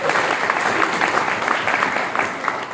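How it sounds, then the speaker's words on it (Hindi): An audience claps steadily and densely for nearly three seconds, a loud, continuous wash of applause from a crowd at a Hindi-language gathering with no talking. "उनके लिए ताली बजानी चाहिए।"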